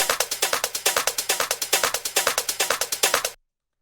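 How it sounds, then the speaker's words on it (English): A crunchy, hard-groove rave techno shaker plays alone in a fast, steady pattern of sharp, bright hits. It is loud and close, then stops abruptly before the end. "crunchy, hard groove style techno shakers like you would hear in a lot of tracks in the style"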